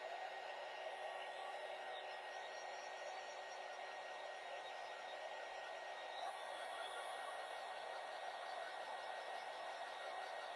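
Hair dryer blowing on freshly painted parts of a fall tiered tray craft, a steady, unbroken airy whoosh held at constant loudness throughout, with no speech.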